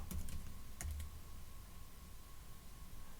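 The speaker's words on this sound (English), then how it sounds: "let's try typing in a URL" Someone types a URL into a web demo app on a computer keyboard, giving a few quick, close key clicks in short bursts near the start and then a quiet pause with faint background hum.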